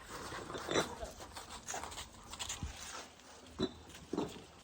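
Dogs whimpering and snuffling nearby in short bursts, with a few sharp thumps and background shuffling.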